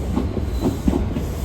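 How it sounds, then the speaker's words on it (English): A West Coast Railway train at Carlisle station gives a steady low rumble with faint rhythmic wheel clicks, heard from close by on the platform with no talking. "the West Coast Railway service is about to leave"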